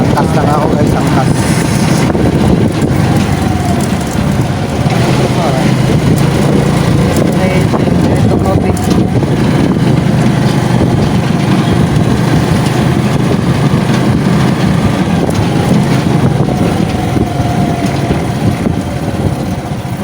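Motorcycle engine and wind rushing steadily on a ride with a passenger sitting pillion, continuous and loud throughout, with voices talking over it.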